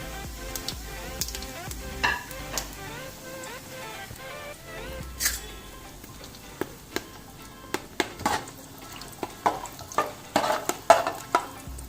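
Bay leaf and whole spices dropped into hot mustard oil for a village-style chicken curry, a soft sizzle beneath scattered clinks and scrapes of a spoon stirring in the pan, quiet and close.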